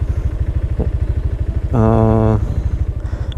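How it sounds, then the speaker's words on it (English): Scooter engine idling with a steady low pulse, then rising in a loud rev for about half a second as the throttle is twisted before dropping back to idle, heard up close. "you can learn it by hearing my scooter engine voice. If it's then it's the time I twist the throttle."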